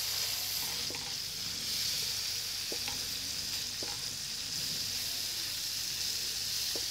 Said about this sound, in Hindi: मैदे को मुसलसल चम्मच चलाते हुए भूनिएगा, चम्मच मत रोकिएगा